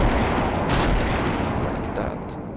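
Heavy airship guns in Garry's Mod fire a dense, roaring barrage, loud and continuous, with bursts layered on each other before slowly easing off.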